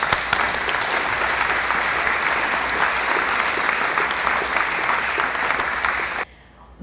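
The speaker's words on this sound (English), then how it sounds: "let's give them all a round of applause" An audience at a National POW Day commemoration breaks into loud, sustained applause, a thick wash of many hands clapping for over six seconds before it cuts off abruptly into near silence.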